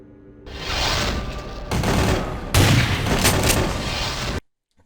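Submachine gun fire in Vampire: The Masquerade Bloodlines comes as dense, loud bursts of rapid shots, two long volleys split by a brief pause, then cutting off abruptly into silence.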